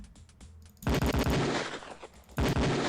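Beretta 92F pistol fired on a police firing range in the Police Quest 4 video game, a loud burst of rapid close shots after a few quieter clicks, then a second volley.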